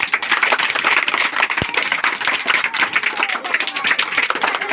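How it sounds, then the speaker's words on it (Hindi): A group of children claps loudly and steadily for a student during a kids' subtraction quiz, with dense rapid hand claps throughout. "प्रतिभा थोड़ा सोच में रह गई, तो इनके लिए भी जोरदार ताली"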